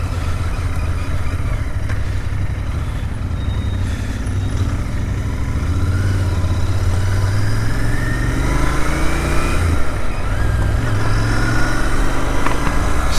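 A 2022 Royal Enfield INT 650 motorcycle runs loud and close while riding, with its engine note rising and falling through revs and gear changes over steady road and wind rumble.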